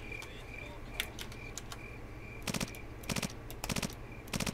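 Short bursts of MP5 submachine gun fire in the Ghost Recon video game, four or five tight clusters of rapid shots over steady low background rumble.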